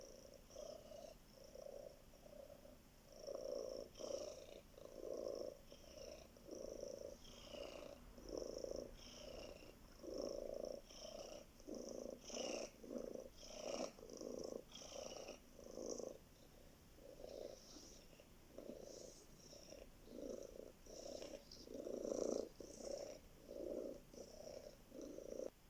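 A sleeping cat purring close by, soft rhythmic rumbling pulses repeating every second or so in a long steady cycle of breaths, quiet and alone.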